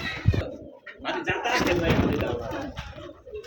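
Pigeons kept in pairs at a breeding farm coo softly under a man's close, continuous talking.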